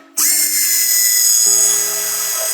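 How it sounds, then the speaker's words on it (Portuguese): A power drill bores dowel holes in a wardrobe panel through a drilling jig with an aluminium stop block. It starts abruptly with a loud, close, steady whine that holds, then shifts slightly in pitch partway through, with no talk. "Vou começar fazendo a furação aqui,"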